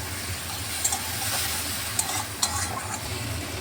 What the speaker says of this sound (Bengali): মশলাটাকে একটু আলুর সাথে ভালোভাবে একটু ভাজা ভাজা করে নিচ্ছি।